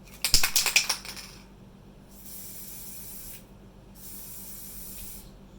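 A spray can misting dried daffodils on canvas, heard as two separate hissing bursts of a few seconds each after a brief clatter of handling noises at the start.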